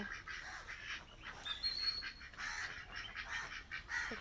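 A flock of ducks quacks and honks repeatedly at a distance, a steady faint chatter throughout.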